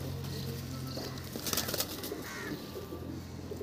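Pigeons coo softly in a loft of show birds, fancy black-eyed and phatka pigeons, low steady coos repeating under faint background noise with a brief rustle of wings or handling midway.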